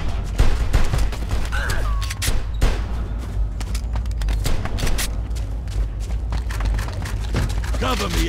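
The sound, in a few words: gunfire in the video game Mafia II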